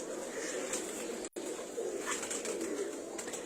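Soft pigeon cooing in a steady outdoor ambience, continuing throughout with a brief dropout partway through.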